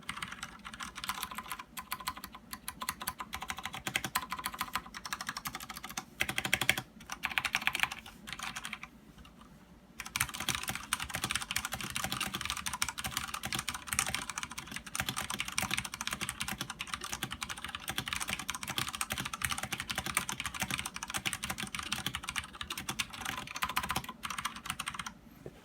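Steady, rapid typing on a Ganss GS87 mechanical keyboard with Cherry MX Red switches and cheap ABS keycaps, close and continuous, with a short pause partway through.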